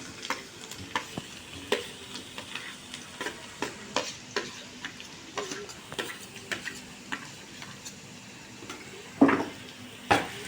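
Chopped garlic and onion sizzle in a hot pan at home while a spoon or spatula scrapes and taps against the pan in a steady series of clinks, close up with no talking.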